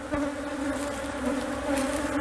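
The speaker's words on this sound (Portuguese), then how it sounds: "Pelo volume de abelhas, isso aqui enxameou total." A dense swarm of honeybees hums steadily and continuously at close range, a thick sustained drone with no voices over it.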